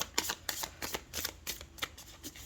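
Astrology tarot cards being shuffled up close, a steady run of crisp papery riffles and slaps in quick rhythmic bursts, with no voices over them.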